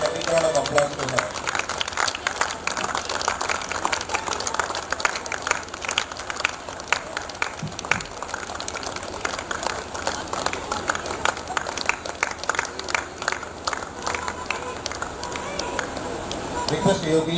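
Spectators at an India Nippon Cup cricket match, the third-place game between Falcon Ameya Sports and Falcon Sheen Sports, applaud player Anuja with steady, dense clapping that runs without a break from start to finish.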